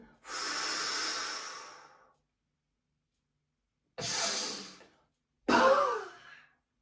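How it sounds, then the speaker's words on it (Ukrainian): Three forceful breaths during a body flex breathing exercise: one long airy exhale, then two shorter puffs, each close to the mic and separated by silence. "Пішли видих."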